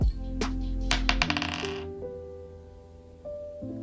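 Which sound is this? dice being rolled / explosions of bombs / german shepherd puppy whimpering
dice being rolled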